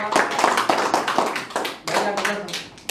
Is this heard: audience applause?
yes